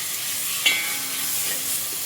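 Spices sizzling in hot tempering oil for a rice dish, a constant bright frying hiss with a brief sharp crackle near the start, close and steady with no talk.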